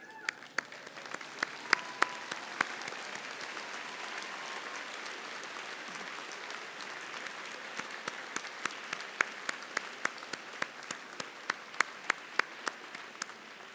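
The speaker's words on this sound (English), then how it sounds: "And let us all give them a round of applause." Audience at a UCLA doctoral hooding graduation ceremony gives sustained, even applause, a dense wash of many hands clapping at moderate distance with scattered sharper claps standing out throughout.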